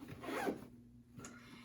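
A backpack zipper pulled closed in one quick rasping stroke, then a second short zip after a pause, close and fairly quiet, with no voices.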